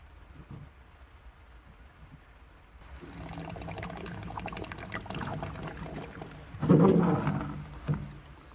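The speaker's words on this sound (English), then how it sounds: "I'm just going to wait for all the fluid to siphon out of here." Solvent draining through a tube out of the fuel tank of an Innocenti Spyder, a soft trickling pour that swells after a few seconds, gurgles louder near the end, then fades.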